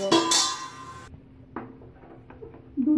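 A metal lid set onto a pot of cooking carrot halwa rings with a bright clang and fades, followed by a few light knocks and clinks of cookware nearby.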